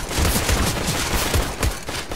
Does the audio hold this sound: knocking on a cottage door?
no